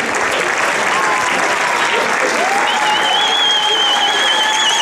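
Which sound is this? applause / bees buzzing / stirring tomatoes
applause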